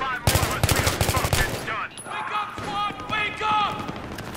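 A rapid volley of close, sharp gunshots rattles off in a shooter video game, about a dozen evenly spaced cracks in quick succession. A voice then talks over scattered game sounds.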